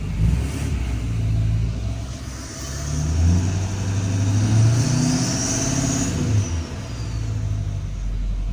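A GM L5P Duramax diesel truck engine with a newly installed turbo rumbles steadily up close, its low drone swelling and easing as revs rise and fall, with a faint turbo whine on top.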